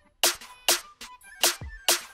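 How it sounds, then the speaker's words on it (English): Big snare drum sample from an FL Studio beat in the SQRTL Squad style, hitting alone five times in a steady rhythm, each crack loud, bright and close with a short ringing tail. "Then a third snare, which is a big snare."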